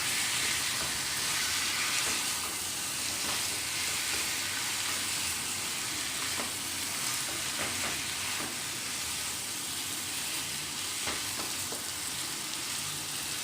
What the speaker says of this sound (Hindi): तो इस तरह से भूनते रहिए।